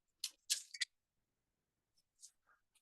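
A few sharp snips from cutters cutting craft chain into lengths for a crystal-embellished baseball cap, close and crisp, with a couple of faint clicks after a pause.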